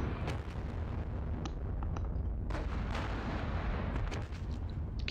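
Artillery firing in the Normandy wargame Panzer Battles, a run of booming shots and sharp cracks over a dense rumbling battle bed, several reports spread across the stretch, loud and without talk.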